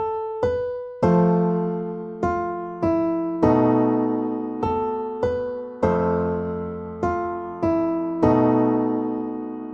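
The closing of the theme music resolves a tritone through a series of sustained, ringing chords and tones, each struck and left to decay, arriving one after another at a slow, stately pace.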